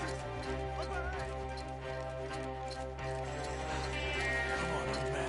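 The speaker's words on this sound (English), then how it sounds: "The horses! Up ahead!" Several horses clip-clop in a steady galloping rhythm through a wooded area, close and prominent beneath a dense, sustained musical score, with a brief whinny rising out of the mix.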